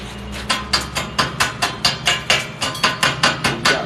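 Chipping slag off a fresh, still-hot weld during welding and fabrication practice, a rapid series of about fourteen sharp metallic taps in a steady rhythm, loud and close.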